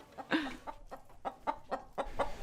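Chickens in a farm coop cluck loudly and repeatedly in a quick, steady series of close, sharp calls, one squawk standing out early.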